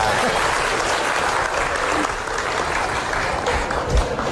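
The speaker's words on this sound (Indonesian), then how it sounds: "Tepuk tangan dulu dong." Studio audience at an Indonesian television talk show breaking into applause, a loud, dense, sustained wash of clapping from a large crowd that holds steady for several seconds.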